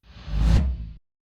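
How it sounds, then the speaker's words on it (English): A low stomp and reverse tom form a pre-drop fill in an epic melodic dubstep track, one swelling, whooshing hit that builds to a peak and cuts off abruptly after about a second, loud and alone. "For the pre-drop fill, use a low stomp and a reverse tom."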